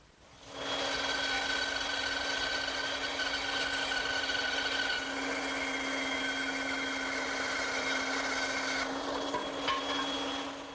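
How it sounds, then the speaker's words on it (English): A bandsaw runs steadily as it cuts a wooden table leg blank for a console table, a continuous close whine with a constant hum that shifts slightly partway through the cut. "I'm going to trace the outline on the blank, and then I'll cut it over at my bandsaw."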